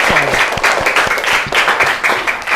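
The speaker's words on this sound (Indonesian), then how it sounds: "Tepuk tangan." Applause from an audience at a school event, a steady dense wash of many hands clapping, loud and close, sustained without pause throughout.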